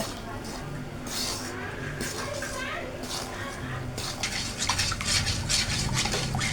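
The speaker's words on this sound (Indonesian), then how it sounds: "Kita aduk dulu." A spoon scrapes and clinks around a bowl as batter is stirred, with someone talking over it and faint background chatter.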